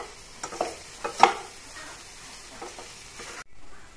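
Soft frying sizzle of potatoes with a few stirring scrapes in a pan, steady and close, no voices, briefly cutting out near the end.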